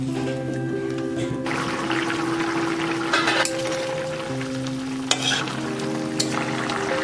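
Potol, drumstick and paneer curry being stirred in a pan with water just added, a steady wet sizzle with scraping spoon strokes and occasional clinks, close and continuous with no talking.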